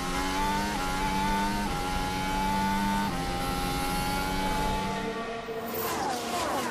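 Formula 1 cars at the 2021 São Paulo Grand Prix qualifying, a loud continuous high-pitched engine whine with shifting tones as cars pass, sustained throughout with a brief dip near the end.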